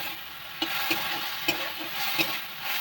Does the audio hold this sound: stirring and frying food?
yes